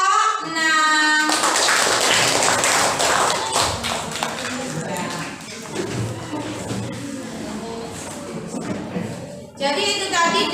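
A class of students applauds presentation group 6 during a social studies teaching session: sustained, dense clapping lasts about eight seconds, with a short voice before it and voices returning at the end.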